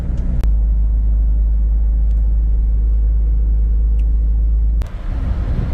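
A Toyota Innova Crysta BS-6 diesel car with an overhauled engine, driving on a road, heard as a loud, steady low rumble from inside the cabin with a few faint clicks and a thump near the end.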